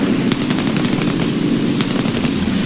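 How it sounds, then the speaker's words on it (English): Heavy aircraft guns firing in the War Thunder game, a rapid close burst of loud repeated shots in uneven clusters with no voices. "So fire a couple of shots here"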